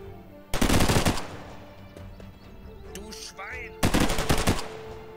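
Two loud bursts of rapid machine gun fire ring out in the World War II strategy video game Forgotten but Unbroken, separated by quieter battlefield ambience and brief game effects.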